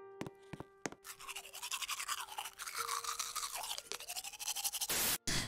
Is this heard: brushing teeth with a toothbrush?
yes